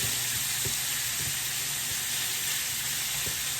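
Steak and shrimp searing over medium heat on a hibachi-style pan, a loud, even sizzle throughout with a few soft taps beneath, close and without talk.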